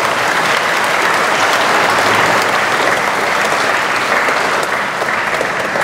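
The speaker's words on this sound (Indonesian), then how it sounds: "Tepuk tangan untuk mereka semua." A Catholic congregation at a Christ the King Mass with the sacrament of confirmation breaks into loud, sustained applause for the newly confirmed, an even roar of clapping lasting several seconds.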